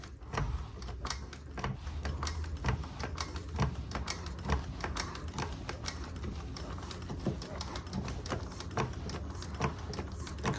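Sewing machine stitching a leather dopp kit bag, running in a steady mechanical chatter with rapid repeated needle clicks for the whole stretch, close and fairly loud, no talking.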